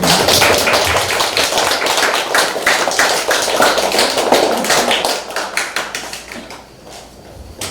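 Audience clapping at an artwork donation ceremony at the Jeonju Wanpanbon Culture Center, brisk and close-sounding at first, then gradually thinning into scattered, fading claps.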